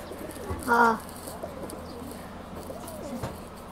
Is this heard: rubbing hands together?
no